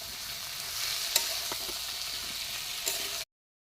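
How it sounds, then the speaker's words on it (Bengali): Cauliflower florets with chilli powder, turmeric and salt fry in hot oil, giving a steady close sizzle broken by a few light stirring scrapes, with no talk. "পরিমাণ মতন শুকনো লঙ্কার গুঁড়ো, হলুদ আর লবণ দিয়ে দিয়েছি, দিয়ে কষিয়ে নেব"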